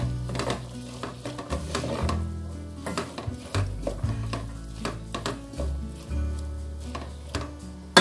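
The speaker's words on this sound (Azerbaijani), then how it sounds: "rəngi dəyişənə kimi qovururuq" Chicken frying in a qazan pot for toyuq qazan kababı, with a steady sizzle under repeated scraping and clinking of a utensil stirring against the metal.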